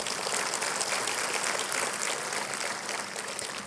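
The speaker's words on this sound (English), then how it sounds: "I request everyone to please give a huge round of applause for the sir" Steady applause from a conference audience, continuous broadband clapping that holds at an even level without speech.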